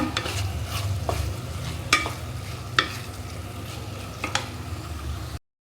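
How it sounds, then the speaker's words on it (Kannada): Egg palya frying in a pan over a low flame, with a soft steady sizzle and a spatula scraping and tapping the pan every second or so, close and without voices. "ಒಂದು ನಿಮಿಷ ಸಣ್ಣ ಉರಿಯಲ್ಲಿ ಇದನ್ನು ಫ್ರೈ ಮಾಡ್ಕೊಳ್ಳೋಣ"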